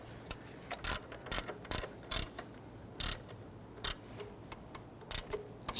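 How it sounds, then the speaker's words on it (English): A ratchet tightens the belt tensioner bolts on a 1992-1996 Toyota Camry 2.2L L4 with close, crisp clicking strokes repeating in short, uneven bursts, with quiet gaps between them. "let's go ahead and tighten down the back bolt here and the rearward horizontal bolt over here"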